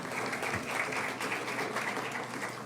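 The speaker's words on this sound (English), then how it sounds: "Can we have a round of applause for our panel," Conference audience applauding a panel, a continuous patter of many hands at moderate volume, steady throughout with no voices standing out.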